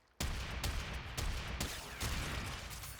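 Hek shotgun blasts ring out in the Warframe video game, a run of loud, sharp reports at uneven intervals, several shots in quick succession over a few seconds with no talking.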